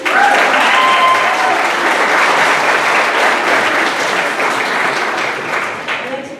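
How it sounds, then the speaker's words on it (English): Loud, dense applause from a large crowd, steady clapping that fills the space and tapers slightly toward the end. "give them a big applause."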